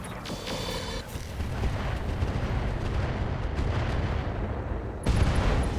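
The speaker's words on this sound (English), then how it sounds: "Kaboom, that's a dead Atlas." Mech weapons firing and an explosion in the video game RogueTech BattleTech, dense rumbling blasts and booms with a sharp burst at the start and another near the end, loud and without talk.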